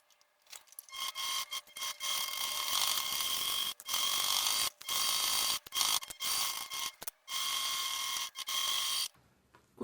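Sewing machine running around the edges of a small patchwork fabric bag, with steady bursts of buzzing stitching broken by short pauses, close up and alone.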